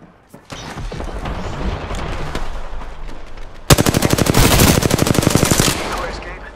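Loud gunfire in the Apex Legends game: a stretch of heavy shooting and impacts, then a fast, rhythmic automatic burst of evenly spaced shots close by that rolls on for several seconds.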